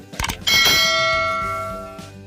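A single bright bell chime rings out clearly, followed by a long, shimmering decay that fades gradually, preceded by a few quick percussive clicks.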